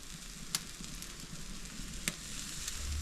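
Foil-wrapped cheese sticks sizzling on campfire coals inside a cave, a low, steady crackling hiss with a couple of sharp pops.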